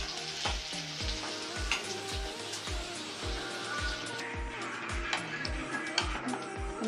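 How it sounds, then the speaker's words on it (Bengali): Onions frying in hot oil for biryani, a steady dense sizzle and crackle running throughout, with regular low thumps ticking along underneath. "এখন আমি বেরেস্তা ভাজবো, তার জন্য তেলের মধ্যে পেঁয়াজ দিয়ে দিলাম।"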